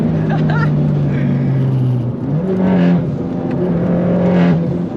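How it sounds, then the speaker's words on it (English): A tuned Vauxhall Corsa VXR engine drones loudly at high, steady revs as if held near the limiter, with pitch shifts throughout and someone talking over it. "then get off the fucking limiter, Cuzzy."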